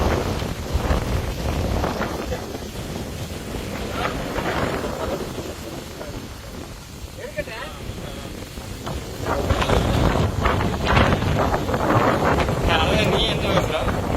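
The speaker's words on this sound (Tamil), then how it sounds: "காத்து செம்மையா அடிக்குது." Strong wind gusts buffet the microphone near the Courtallam falls, a continuous loud roaring rush that eases midway and then surges again, with voices partly buried in it.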